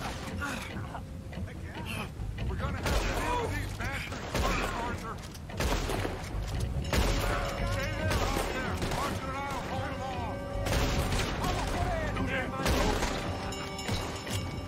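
Gunfire in Red Dead Redemption 2, with repeated loud bursts of shots and booming impacts in clusters over a busy battle, under occasional talk.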